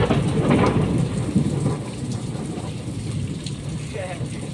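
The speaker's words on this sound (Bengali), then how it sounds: "জল, বৃষ্টি।" Heavy rain pouring down in strong wind, a loud, dense wash of drops pattering on surfaces nearby, with gusts and low rumbles beneath and voices talking over it.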